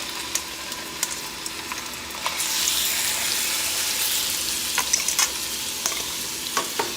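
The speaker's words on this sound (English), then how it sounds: "on medium heat, I add olive oil into a spacious pot and I begin to brown my chicken" Seasoned chicken browning in olive oil in a spacious pot over medium heat, a steady close sizzle and frying hiss with a few scrapes and clinks of stirring, no talking.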